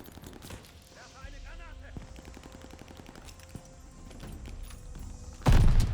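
Rapid automatic gunfire rattles in Call of Duty: Vanguard, a steady stream of close shots joined by scattered heavier bangs and a sudden loud blast at the end, with faint voices underneath.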